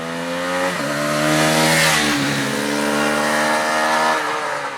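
A Husqvarna Vitpilen or Svartpilen 250 single-cylinder motorcycle accelerates hard through the gears, its loud, close engine note climbing in pitch, dropping at each shift and climbing again.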